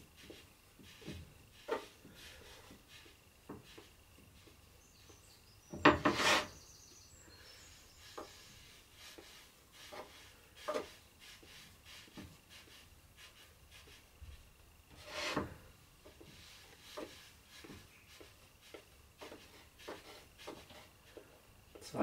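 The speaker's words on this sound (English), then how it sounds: "So I'm smoothing the surface with the card, correcting the shape wherever I need." A card scraping and smoothing the surface of a dry ceramic planter gives quiet, intermittent rubbing strokes, with a few sharper, louder scrapes standing out among soft repeated passes.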